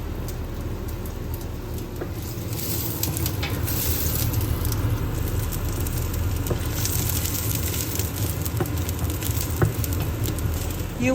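Garlic sizzling in hot oil in a heated pot for a Chinese broccoli and beef stir fry, a loud, close, continuous crackling hiss with scattered pops that grows slightly fuller after the first few seconds.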